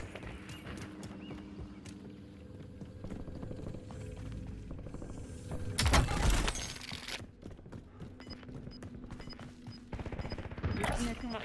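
Gunfire in Call of Duty Warzone comes as rapid bursts of shots with one loud volley midway, mixed with game voice lines and talk.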